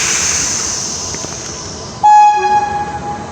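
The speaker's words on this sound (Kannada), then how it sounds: "ಗೈಸ್ ಟ್ರೈನ್ ಬಂತು ನೋಡಿ, ನಿಧಾನಕ್ಕೆ ಬರ್ತಾ ಇದೆ." A train slowly approaching a railway crossing, its steady rumble building before a loud, sustained horn blast cuts in and holds for over a second.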